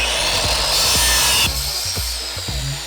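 Wood being cut for a sign, a loud rasping saw stroke that runs steadily for a moment and then eases into quieter scraping, with a few soft knocks underneath.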